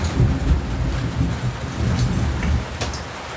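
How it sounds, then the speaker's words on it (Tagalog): Heavy rain falls steadily with deep thunder rumbling low and close underneath, a few brief brighter rattles standing out near the end. "Ang lakas ng kulog."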